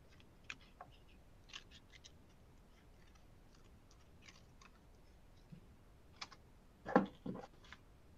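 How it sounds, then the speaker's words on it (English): Scissors cutting out a paper star transfer, heard as sparse, quiet snips and clicks, with a louder cluster of cuts near the end in an otherwise quiet room. "So just like we did before, let's cut out our star."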